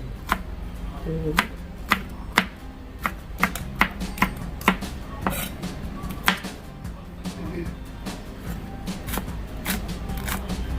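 A knife chops sweet peppers on a cutting board in quick, uneven strokes, sharp close taps repeating with faint background noise.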